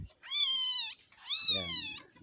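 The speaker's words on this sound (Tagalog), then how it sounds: "Ito yung baby musang natin mga idol" A baby palm civet (musang), eyes already open, gives two drawn-out, rising-and-falling mewing calls, close and fairly clear, separated by a brief pause.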